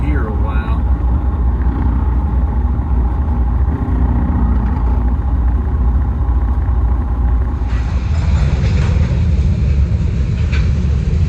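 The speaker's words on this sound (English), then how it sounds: "This is a long frickin' train." Long freight train passing a truck on the road, a loud continuous rumble and rolling roar of rail cars that carries on steadily throughout, heard from inside the truck cab.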